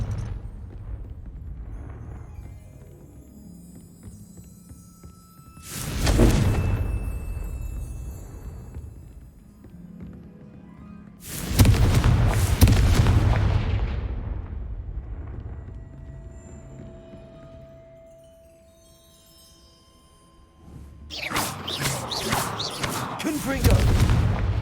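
Repeated Confringo blasting spells go off in a Harry Potter video game, three loud booming explosions spaced several seconds apart over a quieter rumbling game background.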